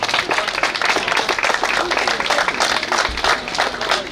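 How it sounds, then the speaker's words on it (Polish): Spectators at the award ceremony of a road cycling race give a burst of applause, dense and close, with fluctuating claps and crowd noise and some voices mixed in. "Tak, to jest dobry moment na oklaski."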